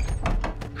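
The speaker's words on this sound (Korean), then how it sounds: "선아는 울다시피 하며 1층 문을 열고 나가려고 했다." A door opening in a Korean horror radio drama, a set of short knocking and rattling transients spread across under a second, fairly close and heard without talk.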